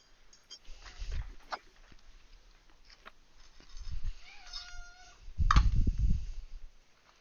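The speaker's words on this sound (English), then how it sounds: "Those cats sound hungry." Several hungry cats meow in short, scattered bursts at close range, with quiet pauses between the calls and faint household rustling underneath.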